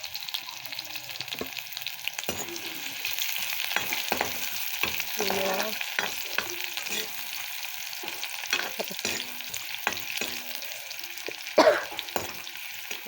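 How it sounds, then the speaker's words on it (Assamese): Onions fry with dried chillies in a pan while being stirred, a steady close sizzle with repeated scraping strokes of the spoon and a sharper knock near the end; no talking. "তাৰপাছত ইয়াত পিঁয়াজ, দিছোঁ। এতিয়া অলপ সময় লৰাই দিম।"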